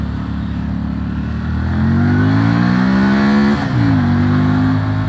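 A Keeway V302C V-twin motorcycle revs and pulls away hard, its deep engine note climbing through a gear, dipping briefly at a shift, then pulling again, loud and close with no talk.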